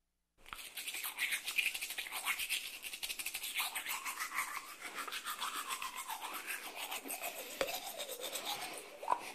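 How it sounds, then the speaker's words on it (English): Close scrubbing of a toothbrush working over teeth, a continuous bristly rasp with quick back-and-forth strokes that keeps going steadily after a sudden start. "Barbie told us we can brush our teeth up here"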